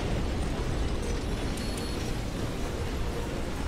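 A dense, continuous roar of explosions from Earth Defense Force 4.1 as houses are blown up, loud and rumbling without pause, with faint crackling bursts on top.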